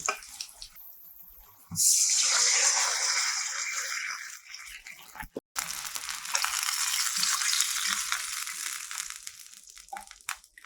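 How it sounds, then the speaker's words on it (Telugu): Water is poured into a hot pan for wheat rava upma, with a loud burst of sizzling and splashing that fades, a brief break, and then a second long hissing pour, close by with no talk. "దీంతో రెండు గ్లాస్ రెండు లోటాల వాటర్ వేస్తాను అనమాట ఇందులో"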